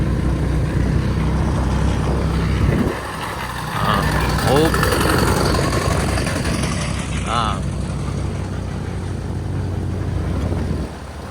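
A vehicle engine revs hard and steadily to climb a wooden ramp (tanjakan kayu), with loud continuous engine roar throughout, a brief dip near the start, and people talking over it.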